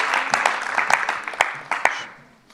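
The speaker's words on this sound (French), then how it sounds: "Merci d'applaudir nos intervenantes et intervenants." An audience at a conference session on planetary limits claps for a panel of speakers. The burst of applause is moderately loud, tails off and fades to near silence by the end.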